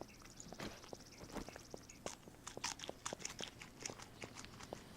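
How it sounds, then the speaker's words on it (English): Food is munched in the video game 7 Days to Die, a string of crisp crunching bites at an uneven rhythm, close and fairly quiet, with no talking. "The sound of munching."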